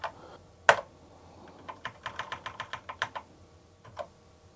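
Keys clacking on a Commodore 64 Ultimate keyboard, one sharp stroke followed by a quick run of about a dozen crisp, evenly spaced taps and a last single press, close and clear, no talk.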